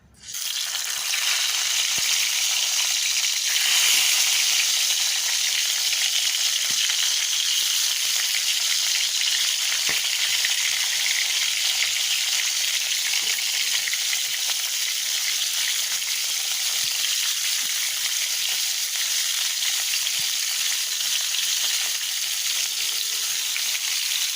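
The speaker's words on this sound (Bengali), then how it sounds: "প্যানে তেল দিয়েছি গরম হয়েছে বেগুনগুলো দিয়ে দেবো" Eggplant slices frying in hot oil in a pan: a loud, continuous close-up sizzle and crackle that holds steady throughout, with no voices.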